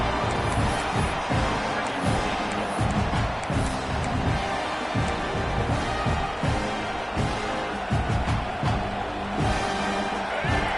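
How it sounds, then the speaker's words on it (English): Football stadium crowd at an NCAA game rising in a steady, loud roar during a red-zone defensive stand, a continuous wall of cheering and noise with no clear breaks. "And the crowd coming to life here, trying to help this defense down in the red zone."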